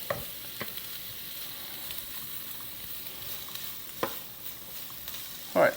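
Onions and carrots cook quietly in a pan as a faint, steady sizzle, close by but low in level, broken by a few spaced utensil taps and a brief louder clunk at the end.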